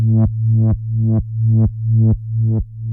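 KORG PA5X synth bass pumping under an LFO sidechain effect: six loud, low sustained notes, each swelling back up in volume after a sharp quarter-note dip, alone and steady.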